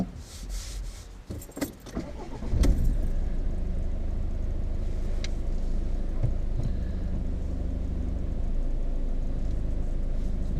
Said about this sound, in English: We will drive off from here